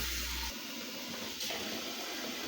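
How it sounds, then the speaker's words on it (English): Water runs steadily into a cooking pot for cauliflower, a continuous broadband rush with no voices, fairly close and even in level throughout. "Put a little more water in here for the cauliflower"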